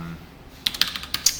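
A handful of light, crisp keystrokes land on a computer keyboard in a short, uneven burst at close range, following a brief quiet moment.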